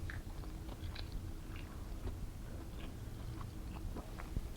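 Close, quiet crunchy chewing of chicken parmigiana, a steady run of bites and mouth crunches with no talking.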